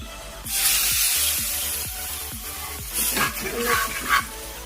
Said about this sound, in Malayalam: ഞാൻ പുളിവെള്ളമാണ് ഒഴിക്കുന്നത്